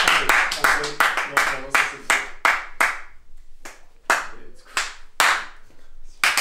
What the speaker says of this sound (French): On peut s'applaudir. Un applaudissement s'il vous plaît.